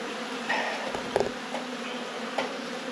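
Honeybees buzz during a colony cutout from a house wall, a faint continuous hum with scattered louder passes of individual bees flying close by; no talking.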